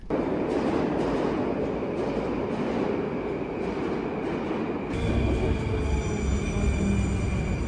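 A Moscow metro train rumbles steadily nearby, a dense roar of wheels and carriages with rhythmic clacks; partway through, the low rumble swells louder and a faint high whine joins in.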